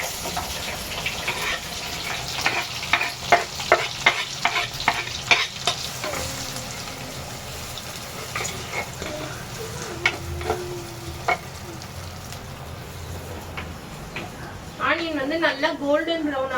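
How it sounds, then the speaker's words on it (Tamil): Onions and fennel seeds sautéing in a pan at home, with steady sizzling and repeated scraping stirs, a tap briefly running water near the end, and voices talking over parts of it. "வதங்குற வரைக்கும் வதக்கிக்கலாம்"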